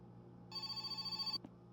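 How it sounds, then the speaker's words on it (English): A telephone rings in the video game My Summer Car, a rapid trilling electronic bell held for under a second over a low steady hum, then cut off. "Wow, an actual phone call."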